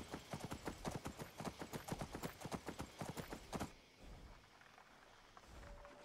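Horse hooves clip-clop in Skyrim at a quick, even trot, a rapid run of close, loud hoofbeats that stops abruptly, leaving quiet ambient noise.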